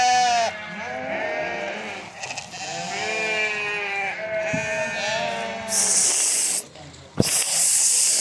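Tatalı breed ram lambs bleating loudly and close, several overlapping calls in quick succession with short pauses, along with rustling and hissing noises from the pen.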